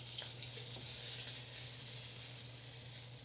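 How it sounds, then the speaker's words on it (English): Butter sizzles steadily in a pan as it is stirred, a close, continuous crackling hiss with faint scraping and no talking. "Sure, give it a stir."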